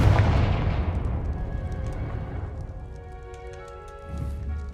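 A Confringo spell blast in Hogwarts Legacy gameplay, a loud booming explosion that rumbles and decays over several seconds, with lingering crackling debris and a low thump near the end.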